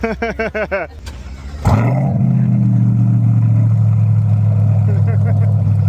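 A car engine starts after brief chirpy sounds and then settles into a loud, steady idle close by, rising slightly as it revs.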